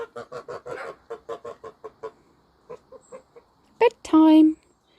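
Pet geese being let out at bedtime give a couple of loud, close honks near the end, after a run of rhythmic speech from a person.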